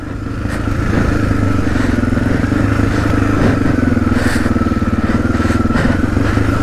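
A Suzuki DR-Z 250 dual-sport motorcycle climbs hilly trail terrain in north-east Tasmania, its engine droning steadily and loudly throughout with a rhythmic mid-range pulse and light clatter, close to the rider.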